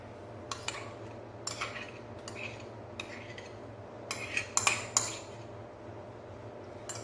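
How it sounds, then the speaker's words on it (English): A metal spoon clinks and scrapes against a bowl while mayonnaise is added to mashed egg for egg mayo sandwiches, giving sparse, sharp taps and clatters over a quiet room hum, with a cluster of clinks midway. "First we're gonna add all the mayonnaise."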